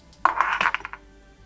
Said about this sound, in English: Gonna get our tablespoon of yeast. Drop that in there.